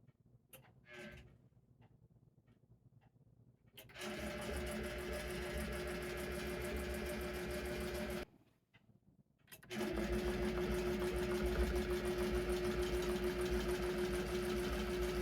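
A long-arm quilting machine runs in two sustained bursts while basting a quilt, a steady mechanical hum with rapid ticking stitches, separated by quiet pauses and near-silence at the start.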